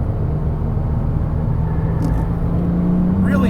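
Porsche 997 GT2 RS pulling hard in third gear from inside the cabin, a steady low engine drone that rises slightly toward the end under continuous road rumble.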